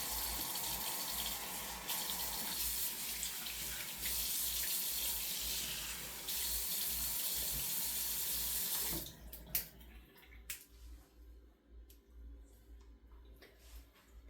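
Tap water runs steadily into a sink during face washing, a loud continuous hiss for several seconds that cuts off abruptly, leaving faint splashes, drips and small handling noises.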